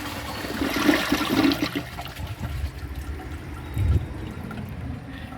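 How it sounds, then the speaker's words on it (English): A 2009 Jacuzzi Perfecta toilet flushes close by, with a low rush and gurgle of water swirling through the bowl that holds steady, then surges briefly near the end before settling into a quieter trickle. "Let's give it a flush."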